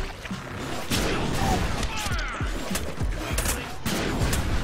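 Shotgun blasts in the Deadpool video game on Xbox One, several heavy booming shots spaced a second or so apart, loud and close amid clattering in-game action.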